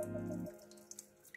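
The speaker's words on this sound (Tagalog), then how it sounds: "ibuhos ko na yung mainit na tubig," Hot water is poured into a steamer for cooking cabbage rolls: a short, faint stream of liquid that stops after half a second, followed by a few soft drips.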